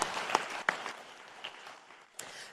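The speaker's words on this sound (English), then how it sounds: "George deserves a big round of applause." A lecture-hall audience at a talk on democracy gives a short burst of applause for George Cooper, a soft even wash of clapping with a few sharper claps standing out.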